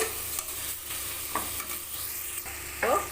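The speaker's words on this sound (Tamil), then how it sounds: "அரை கிலோ சிக்கனை கழுவி எடுத்து போட்டுக்கலாம் கொஞ்ச நேரம் வதங்கட்டும்" Half a kilo of washed chicken sautéing in a pan for biryani, with a continuous sizzle broken by several scraping stirs of a spoon against the pan and no voices.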